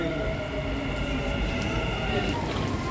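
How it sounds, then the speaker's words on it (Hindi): A Dubai Metro train rumbles in a steady, heavy drone with rail hum and faint high whine, heard from inside or beside the car, continuous and moderately loud throughout. "ये देखो दुबई मेट्रो।"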